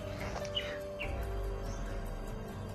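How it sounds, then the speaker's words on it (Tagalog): A crow calling outdoors, a few short, fairly faint cries at a distance over a low, steady background hum, with no voices present. "May uwak."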